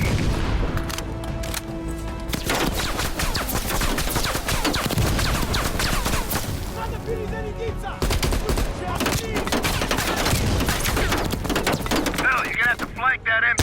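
Dense bursts of machine gun fire and scattered shots in a Call of Duty Black Ops Cold War battle, loud and nearly continuous, with game voices talking over the gunfire.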